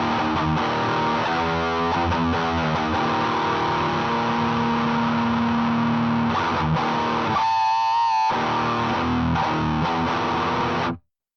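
Heavily distorted electric guitar through a Dunn Effects Death Knob pedal, HM-2 Swedish death metal tone, plays sustained fuzzy chords and notes, loud and saturated, with a brief gap midway before cutting off abruptly at the end.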